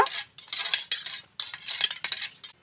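A spoon scrapes and clinks in a bowl in quick rhythmic bursts as salt and turmeric are stirred into a strained mustard mixture for hilsa, close and clear with no talking.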